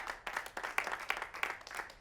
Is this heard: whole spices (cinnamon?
no